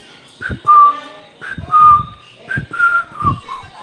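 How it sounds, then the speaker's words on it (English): A person whistles a short, catchy theme tune, four bright melodic phrases in steady rhythm, close and clear with no talking over it. "all I have to do is whistle outside that little theme"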